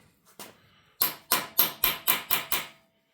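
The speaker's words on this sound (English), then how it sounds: "So I'm just gonna grab a hammer" A hammer strikes a Twin Cam 88 engine part in a cam chest: a couple of light taps, then seven sharp, evenly spaced metallic blows, close and loud with short ringing decays.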